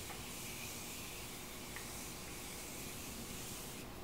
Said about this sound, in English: So we're gonna use my Morphe setting spray.